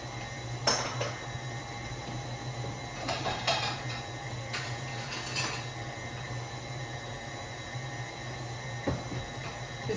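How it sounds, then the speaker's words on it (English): Cookie dough with nuts, for old fashioned iced oatmeal cookies, is stirred in a bowl, a spoon clinking and scraping against it in irregular bursts over a steady background hum. "Just giving the nuts a little stir."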